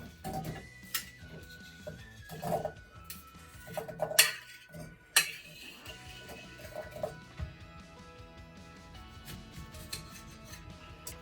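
Apple slices for a French apple tart are placed into a pan, making scattered soft clinks and light taps of metal and cookware, quiet and close, with no speech.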